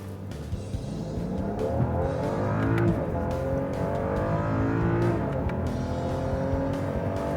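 A 2013 BMW 640i Gran Coupe's 3-liter twin-turbo engine revs and accelerates steadily from inside the vehicle, pitch climbing and dropping through gear changes, loud and continuous with no talking.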